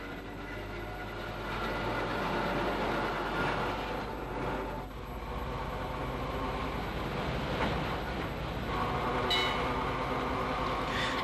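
Steady rumbling and rattling of a vintage open-top tram climbing toward the summit, rolling along rails, continuous and fairly close, with a brief high squeal near the end.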